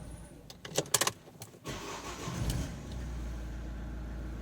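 An Opel Zafira B engine turns over and catches, a few sharp clicks and clunks giving way to a low steady idle, moderately quiet and close.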